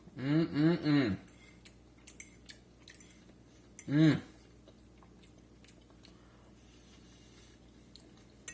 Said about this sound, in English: let's get in here and eat